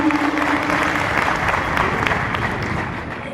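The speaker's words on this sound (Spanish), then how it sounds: "Muchas gracias por el aplauso cálido." Warm applause from the audience at a public forum on structural reforms in Teopisca, Chiapas, a continuous wash of clapping that fades slightly toward the end.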